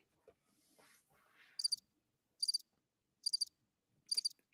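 Cricket chirps as a comedic sound effect, four short, bright, evenly spaced trills following a few faint rustles, with no talking over them.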